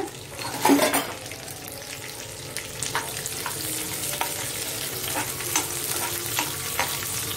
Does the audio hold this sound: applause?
no